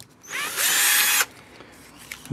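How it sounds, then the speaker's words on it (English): A power drill whirs up and bores loudly into PVC for under a second, then cuts off, leaving quiet room noise and a few faint clicks. "I'm going to drill a hole where the camera mount bends over"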